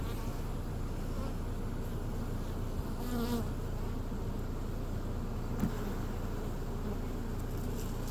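Honey bees buzzing steadily around an open hive with frames being handled, a dense, close and continuous drone that fills the whole stretch, with a faint engine hum underneath.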